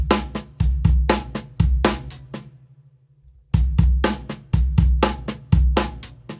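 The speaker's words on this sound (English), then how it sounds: "you're playing a double stroke roll between your kick and your snare drum" Drum kit groove built on a kick-and-snare double stroke roll mixed with single strokes, heard as loud, close, punchy repeated hits with crashing cymbal accents, broken by one brief sustained ringing pause, with no talking.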